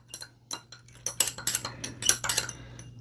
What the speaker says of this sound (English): I'm going to keep adding ammonia and stirring in between the addition of the ammonia